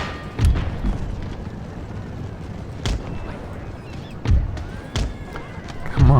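Artillery cannons firing in the video game Empire: Total War, several deep booms at irregular intervals over a rumbling battlefield background, with someone talking between the shots.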